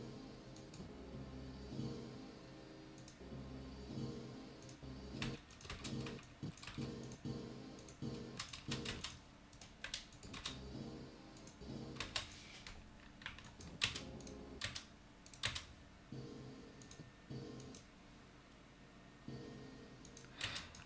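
Computer keyboard keys clatter in irregular bursts of quick taps with short pauses, close and fairly quiet, as keyboard shortcuts are typed.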